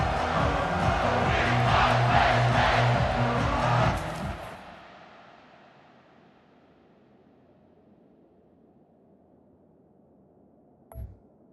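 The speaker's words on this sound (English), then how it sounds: "They challenge this crowd to bring the energy, and I'd say they're doing that." Stadium crowd in a College Football 25 video game roaring loud and steady for about four seconds, then cutting off to near silence with a brief thump near the end.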